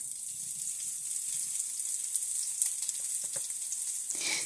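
Potatoes frying for a potato hash with smoked sausage, a steady close sizzle filling the pan with a few small pops and scrapes, then a brief stir or clatter near the end.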